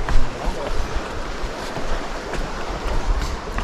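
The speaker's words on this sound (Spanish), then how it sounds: "ya con el ruido del río ya casi no se escucha mucho lo que uno habla" A river roars in a broad, continuous rush of water on a hiking trail, loud and close, with wind buffeting the microphone in bursts.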